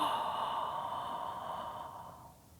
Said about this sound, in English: You're breathing with the sound haw or aw.